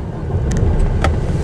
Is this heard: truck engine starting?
yes